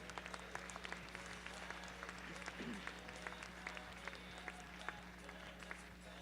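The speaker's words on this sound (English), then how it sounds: "take them all out with a nice round of applause" A horse show crowd claps for the drivers of a registered mare cart class, scattered applause with sharp individual claps heard from a distance over a low steady hum, fairly faint and with no voices.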